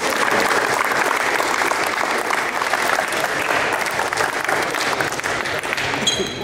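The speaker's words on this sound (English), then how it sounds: "So let's give Otto a round of applause." A crowd applauds steadily for a basketball player, a dense, continuous wash of clapping that holds loud and even throughout with no gaps.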